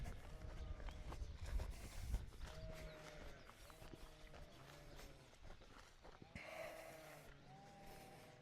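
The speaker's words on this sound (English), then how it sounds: "we'll release the sheep" Sheep let out into a fresh rotational grazing paddock, their hooves clopping and trotting in a quick irregular patter, fairly faint and distant, with a soft snort among the steps.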